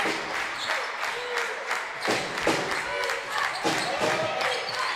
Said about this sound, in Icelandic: Þannig að klappa allir í takt.